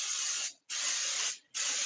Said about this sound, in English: spray my fish to keep the seasoning from coming off when it cooks